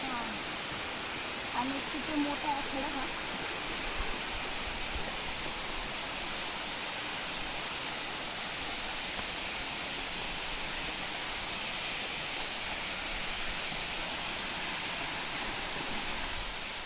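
A waterfall hidden in forest pours from a height, making a continuous broadband roar that stays steady and loud throughout, with a brief voice faintly heard early on.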